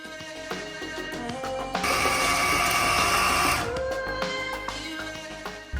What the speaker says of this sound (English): now I'm going to add them to my grinder